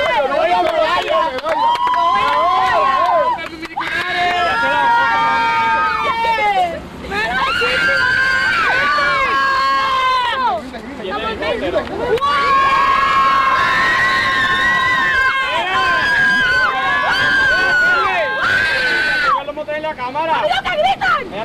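A crowd at the 2006 Winston Offshore Cup powerboat race shouts and cheers loudly and close by in long, rising whoops, with voices overlapping throughout.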